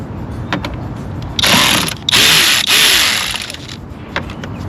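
A ratchet wrench loosening the 10 mm battery ground terminal on a 2018 Honda HR-V 1.8L: close, loud bursts of rapid clicking, two or three runs of ratcheting separated by short pauses.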